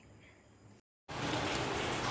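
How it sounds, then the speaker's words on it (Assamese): Steady, dense rain hisses loudly and evenly after a brief quieter stretch and a moment of near silence, close and continuous. "বহুত দেৰি বৰষুণ দি থাকিলে, ইমান ডাঙৰ বৰষুণ"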